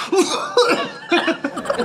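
A man gives a few short, forced coughs that run into chuckling, in a rapid broken rhythm, close and loud.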